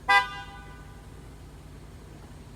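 A car horn gives one brief, faint honk at the start and then fades into quiet background hum.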